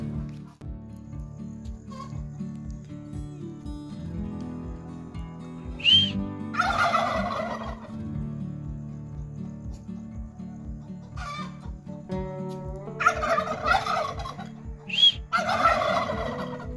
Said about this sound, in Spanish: Son los guajolotes.